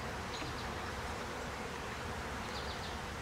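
Dense, continuous buzzing of honey bees packed on the frames of an open nuc hive, heard close up and loud with no pauses or voices.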